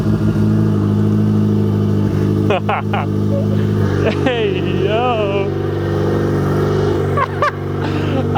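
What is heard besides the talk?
car engine with custom turbo kit starting and running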